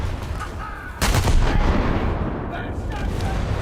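Naval artillery salvos boom loudly in a warship video game, a heavy blast at about one second followed by sustained rumbling fire and further shots under dense battle noise.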